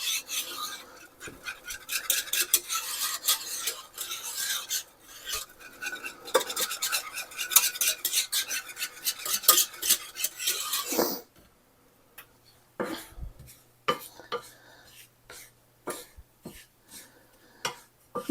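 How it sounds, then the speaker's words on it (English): A spoon scrapes and stirs thickening coconut cream pie filling in a pot with rapid, close, rhythmic strokes, then stops briefly and resumes with sparser scrapes and clinks. "this is where we would want to stir it constantly so it doesn't burn"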